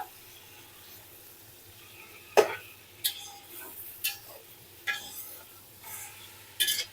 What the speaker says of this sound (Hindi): अब मैं इसमें बीफ के पीसेस शामिल कर दूँगी और बीफ के पीसेस को मैं 2 से 3 मिनट के लिए कलर चेंज हो जाने तक पका लूँगी